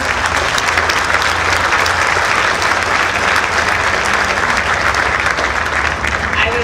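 A crowd claps steadily for first responders at a resort and casino steelwork topping-off ceremony, dense sustained applause filling the whole stretch, with some voices underneath.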